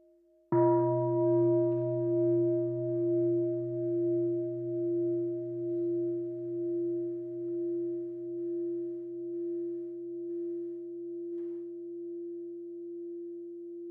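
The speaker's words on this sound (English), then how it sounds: "Let us listen to one sound of the bell." A single mindfulness bell stroke rings out clearly, then sustains a long, steady tone that slowly fades over many seconds in an otherwise silent room.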